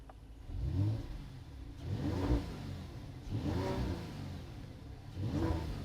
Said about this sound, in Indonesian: tapi knalpot dari mobil ini bersuara